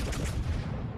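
Ship guns firing at long range in World of Warships: Legends, a dense, continuous roll of heavy booming salvos that stays loud through the whole second, with no talk.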